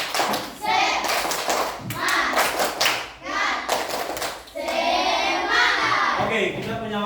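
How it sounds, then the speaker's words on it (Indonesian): A group of children doing a rhythmic spirit clap in a classroom: bursts of crisp, loud hand claps and thumps in patterned sequences, mixed with children's voices chanting along. "Oke, tepuk semangat."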